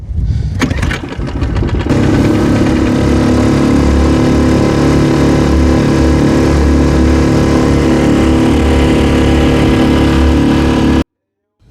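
A small 6-horsepower two-cylinder Mercury outboard motor starts in neutral with a few quick sputters, then runs loudly and steadily at a constant idle before cutting off abruptly at the end.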